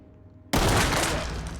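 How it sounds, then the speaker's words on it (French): Sudden loud burst of gunfire in the tactical shooter game Ready Or Not, a sharp onset after near-silence followed by dense sustained firing that stays loud to the end. "là ça a tiré parce qu'il y a un suspect"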